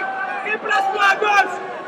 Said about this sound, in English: The crowd started booing